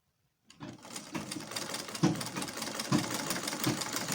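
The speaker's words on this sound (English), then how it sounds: "Make sure you don't drag the zipper as you sew." Sewing machine stitching a zipper onto a bodice, a steady rapid mechanical whirr starting abruptly after a short silence and running at an even pace with regular heavier thumps, close and moderately loud.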